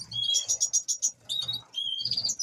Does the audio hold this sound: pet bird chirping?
yes